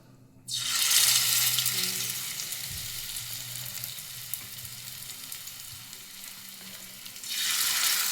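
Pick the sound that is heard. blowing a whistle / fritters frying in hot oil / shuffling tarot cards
fritters frying in hot oil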